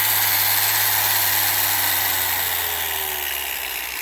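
An Avid Power 6-inch dual action polisher runs steadily at high speed, a loud continuous motor whine with heavy vibration and broadband hiss that holds for about four seconds with no talking.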